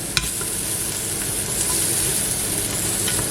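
Onions sizzle and fry loudly in a pan as they brown, a dense continuous crackling hiss with a brief utensil tap at the start and no voices.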